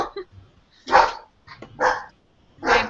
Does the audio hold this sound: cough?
no